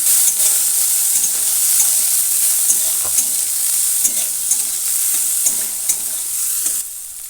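Carrots sizzling in hot oil in a pan for vegetarian dal, a steady loud frying hiss with repeated scraping stirs of a spatula throughout.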